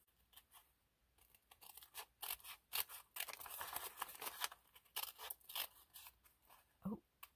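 Scissors snip through craft material for a butterfly bellyband, a run of close, quiet crisp cuts coming in irregular bursts, with a brief voice near the end.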